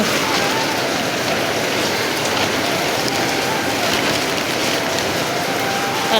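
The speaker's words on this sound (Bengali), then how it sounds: "লাগানো যাচ্ছে না বৃষ্টি পড়ছে" Heavy rain pours down in a dense, even hiss, loud and close, drumming steadily on surfaces without a break.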